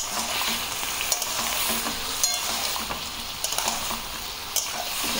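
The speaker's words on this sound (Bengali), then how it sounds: "এবার আমি বলগুলো দিয়ে দেবো, যাতে বলের মধ্যে জুসটা ঢোকে" Chicken balls being stirred into Manchurian sauce in a hot pan, with a steady loud sizzle and frying hiss and scattered scraping clicks of a utensil throughout.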